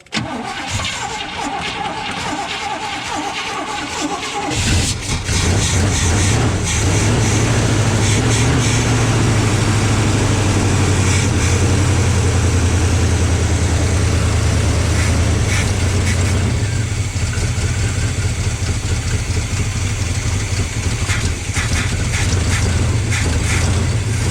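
An old ramp truck's big block 454 Chevy, left sitting for 27 years, cranks and fires into a loud, steady rumbling idle close by that runs on without a break.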